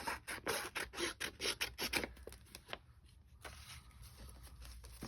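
Paper being trimmed with scissors while covering fall journal pages: a quick run of close, rhythmic raspy cuts for about two seconds, then quieter rustling and one more snip, no talking.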